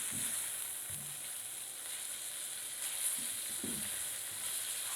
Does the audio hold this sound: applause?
no